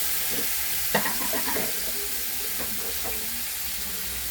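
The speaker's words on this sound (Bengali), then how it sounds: "তো এবার আমি জলটা ঢেলে দেবো।" Mustard paste frying in a wok, with water being poured in, gives a steady sizzling hiss and a cluster of scraping, bubbling bursts early on that ease back into an even fry.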